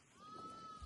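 A single short sheep bleat, fairly faint and slightly distant, wavers briefly over a quiet outdoor background while a flock is herded on foot.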